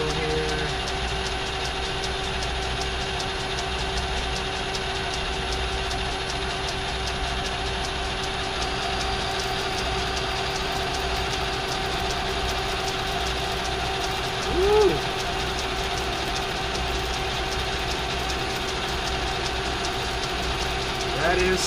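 A lathe turns a rifle barrel for a custom PSL, taking a first cut of ten thousandths with oil applied. It gives a steady tonal machine hum with a faint whine and one brief blip midway.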